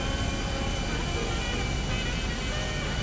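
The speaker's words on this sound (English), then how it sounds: "Yep, the aircraft's gone down." A jet going down in GTA V Online, heard as a dense, steady roar of engine and wind noise with no clear change across the whole stretch.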